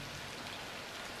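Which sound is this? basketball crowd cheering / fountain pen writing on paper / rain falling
rain falling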